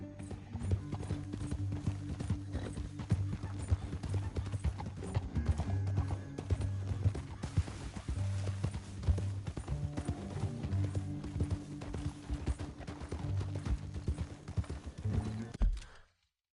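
Steady clip-clop of several horses' hooves at a brisk pace, continuous and fairly loud, with a mechanical creak and occasional whinny mixed in.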